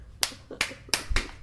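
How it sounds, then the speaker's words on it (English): Four sharp hand claps ring out close by in an uneven rhythm over a second and a half, with no talking. "Clapping."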